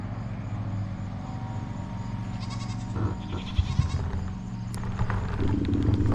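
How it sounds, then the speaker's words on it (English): Several goats bleat at a distance, short wavering calls scattered over a low steady rumble like a nearby idling engine. "I hear goats too"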